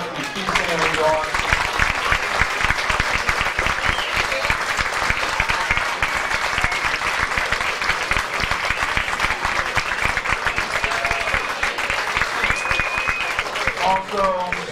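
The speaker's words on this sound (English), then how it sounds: "I'd like to have you once again stand so we can give them a great round of applause." A banquet crowd at a high school sports hall of fame dinner applauds its standing inductees in a long, steady, loud burst of clapping, with a few voices calling out at the start and end.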